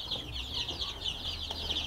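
Young free-range village chicks (ayam kampung) cheep in a steady stream of high, overlapping peeps, close and continuous with no talking.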